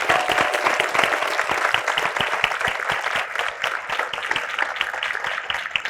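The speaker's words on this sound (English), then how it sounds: "Now, the big applause is for Holly Webb and Carly Poindexter" Audience applause after the 2025 State of the City address in Boulder City, with sustained, lively clapping from a full crowd.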